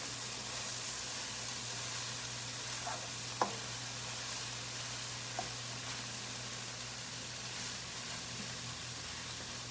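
Steady, even sizzling of beef frying in a pan, with a couple of faint clinks partway through.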